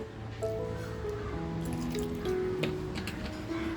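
Kokum juice dribbles onto cleaned squid in a bowl for marinating, soft wet drips and trickles over faint kitchen background tones.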